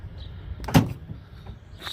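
A manual lift gate on a 2019 Ram 1500 Sport crew cab pickup gives one sharp mechanical clunk as it is lowered, with faint rattles and a soft scrape afterward.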